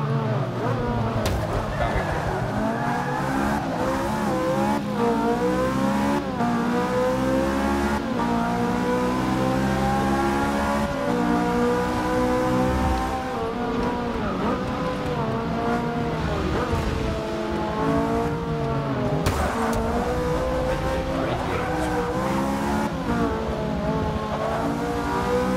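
Race car engine in Forza Motorsport 6 Apex, revving and shifting steadily throughout with rising and falling pitch sweeps, loud and continuous, with someone talking over it.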